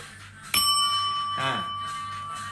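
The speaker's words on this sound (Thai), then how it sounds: "หมดเสียงกระดิ่ง" A bell rings once with a sharp, bright strike, then a clear metallic tone rings on and slowly fades. A brief voice-like sound passes midway.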